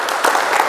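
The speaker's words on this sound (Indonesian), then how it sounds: "Berikan sorak-sorai buat Tuhan yang dahsyat." Church congregation applauding and cheering for God at a service held at an army battalion headquarters, a steady wash of clapping and voices lasting under a second.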